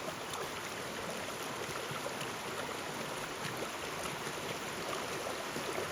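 A wilderness river runs over rocks along the Appalachian Trail in the 100 Mile Wilderness, a constant close rushing and hissing of water with no breaks and no talk.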